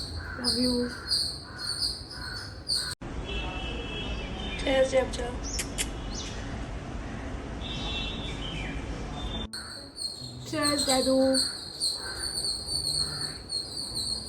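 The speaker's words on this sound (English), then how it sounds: "Birds are going crazy." Birds chirp loudly outdoors with rapid repeated high calls, interrupted midway by a stretch of a different busier scene, and a person speaks briefly.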